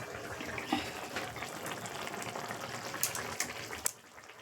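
A pot of food bubbles on a home stove, a soft, continuous simmering burble with a few small pops, close but fairly quiet.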